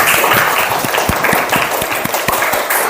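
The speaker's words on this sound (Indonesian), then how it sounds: "Tepuk tangan dulu." Classroom group applauding a winning team, steady dense clapping filling the whole moment at close range, with a few sharper individual claps standing out.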